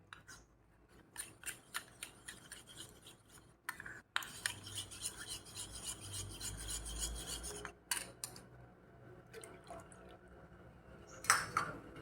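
Cornflour paste is stirred into buffalo milk, a spoon scraping and clinking against the vessel in quiet, irregular strokes, with a thicker swishing stretch in the middle.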